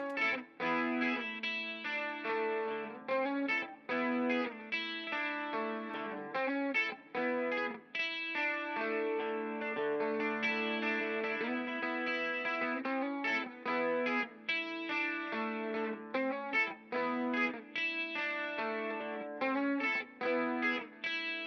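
Compressed electric guitar playing chords and melodic lines with about 3 dB of gain reduction, a smooth, evenly held level, sustained and continuous, no voices.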